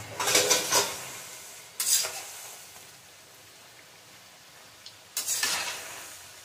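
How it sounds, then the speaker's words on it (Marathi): Pieces of khari shankarpali dough drop into hot oil in three separate bursts of crackling sizzle, each fading away, with quiet gaps between them. "मी नेहमी असं डायरेक्ट पोळपाटावरून तेलात टाकते"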